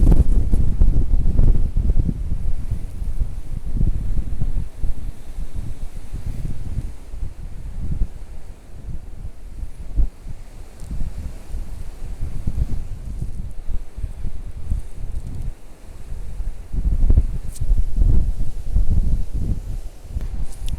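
Strong gusty wind battering the microphone outdoors while a DJI Mavic 2 Pro drone flies, a constant loud low roar that swells and dips in gusts, with no voices.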